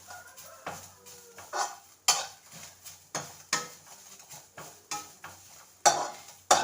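Grated coconut roasts in a pan while being stirred for arisi urundai, giving repeated scraping strokes of a spoon against the pan at a steady rhythm over a soft dry sizzle, close and clear with no talking.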